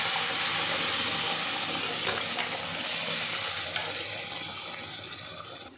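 Spice masala sautéed in a pan for a South Indian dish: a continuous close sizzle with stirring scrapes and a couple of sharp clicks from the spatula, with no one speaking.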